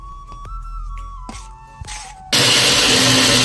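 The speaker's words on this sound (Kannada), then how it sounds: "ಎತ್ತಿಟ್ಟ ಬೆಳ್ಳುಳ್ಳಿನು ಸಹ ಈಗ ಮಿಕ್ಸಿಯಲ್ಲಿ ಚೆನ್ನಾಗಿ ಪೇಸ್ಟ್ ಮಾಡ್ಕೊತೀನಿ" A kitchen mixer grinder whirs to life to grind oil-roasted garlic into paste for a homemade pickle, a loud, dense, steady motor roar that follows some quieter clatter and tonal hum.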